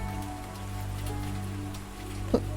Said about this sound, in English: Are you sad it's raining?